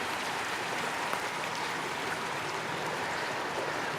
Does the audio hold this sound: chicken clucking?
no